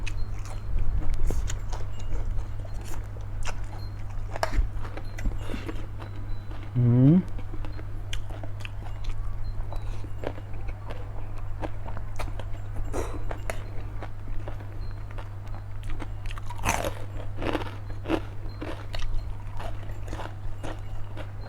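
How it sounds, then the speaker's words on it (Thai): Crisp crunching and chewing of crunchy Thai pork rinds eaten alongside spicy papaya salad with rice noodles, sharp bites scattered over about twenty seconds above a steady low hum. "แคบหมูกรอบกรอบ"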